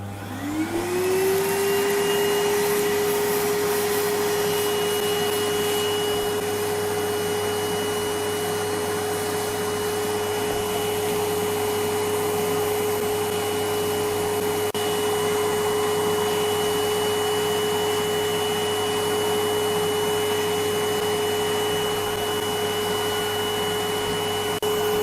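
A vacuum cleaner with a brush nozzle works over a fragile, degraded textile through tulle during museum restoration, motor spinning up then holding a steady close whine and airflow hiss throughout.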